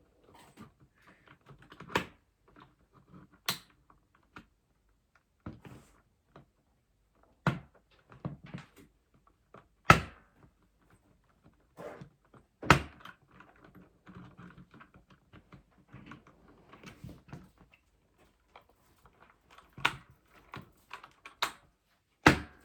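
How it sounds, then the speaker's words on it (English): Sharp plastic clicks and taps come from the spacebar keycap being pried off a Magegee MK STAR75 keyboard. They are scattered and irregular, close and isolated, with quiet gaps between them. "So let's start with the spacebar."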